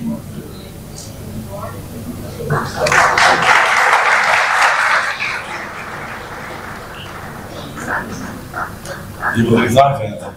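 Audience applause at an SSC board results ceremony in Dera Ismail Khan, a dense burst of clapping rising after talk and lasting a couple of seconds before fading, with speech around it and another short swell near the end.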